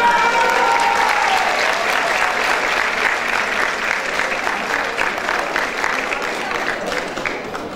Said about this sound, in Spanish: Un aplauso para la doctora Leonor.